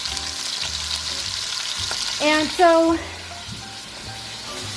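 Pot roast beef, browned golden and flipped with a fork, sears in a hot pan with a steady close sizzle, crackling throughout, while someone briefly speaks.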